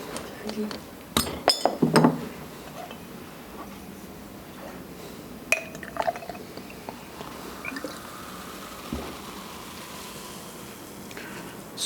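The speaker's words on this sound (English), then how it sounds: "Going to drink some water because we need to water." A few sharp glass clinks ring out early as a drinking glass of water is handled, followed by quieter tapping and handling, with a person talking throughout.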